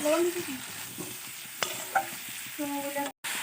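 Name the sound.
frying spices with turmeric, chilli and cumin powder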